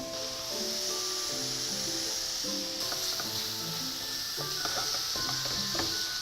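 Ground lamb fries in a hot pan with a continuous close sizzle and hiss, plus occasional scraping clicks, over a faint steady tonal hum in the background.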